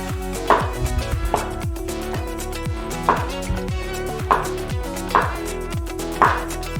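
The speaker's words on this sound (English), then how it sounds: "I'm gonna slice them up." Knife slicing through food on a cutting board for appetizer bites, a steady series of crisp, close chops spaced about a second apart, with no voices.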